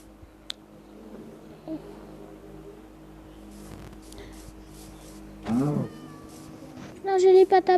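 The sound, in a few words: cat meowing in a survival video game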